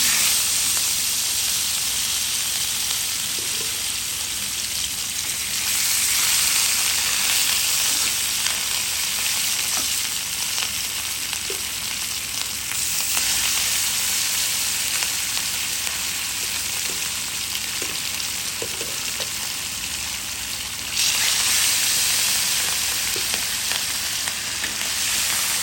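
Hot oil sizzles steadily in a pan for rui fish curry with cauliflower and potato, a loud continuous frying hiss lasting throughout with no voices.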